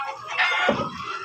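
A jungle fowl (labuyo) gives a short, close cluck with a brief throaty note in the middle, about one second long and heard on its own.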